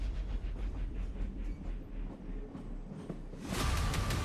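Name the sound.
moving train approaching a bridge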